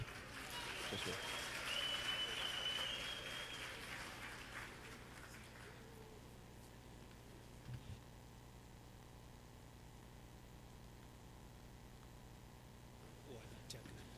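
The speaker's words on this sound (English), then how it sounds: "Let's give a councillor a round of applause." A crowd at a youth week event claps for a councillor for a few seconds, then the applause fades into a quiet room hum.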